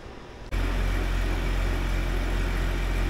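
A 1999 Jeep Cherokee engine idles steadily after being fitted with a new exhaust, starting abruptly and settling into a loud, continuous low rumble close by.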